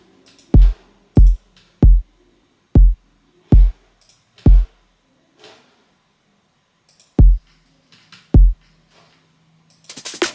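A self-made kick drum sample for jungle music thumps eight times in an uneven pattern, each hit a short, deep, punchy boom with quick decay and near-silence between, plus a faint brief tail of other sound at the end.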